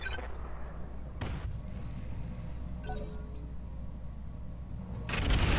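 Inferno weapon fire in the BattleTech mod Roguetech, heard as several sharp bursting blasts over a steady low rumble, with the loudest burst at the end.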